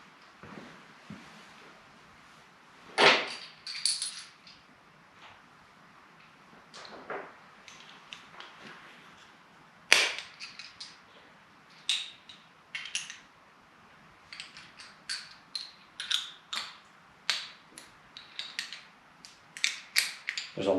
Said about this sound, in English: I'm going to unbolt the front 2 bolts here.